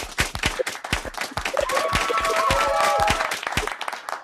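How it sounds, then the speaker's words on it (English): Audience applause for a stand-up comedy and improv performer, steady dense clapping from a crowd that swells in the middle and continues throughout with a few shouts over it. "please, a round of applause for Mr. Andew Roffe."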